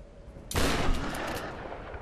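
A single loud gunshot in the video game Tomb Raider bursts out after a quiet moment on a beach, then trails off in a long, fading rumble.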